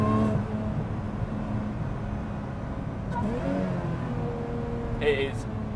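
A Lotus Exige 430 Cup sports car tuned to 500 hp, engine held at full throttle, gives a steady loud drone throughout, with a driver talking over it.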